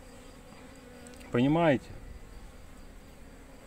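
Honeybees buzz at an opened hive from an overwintered colony, giving a soft continuous hum beneath a single short spoken question in Russian.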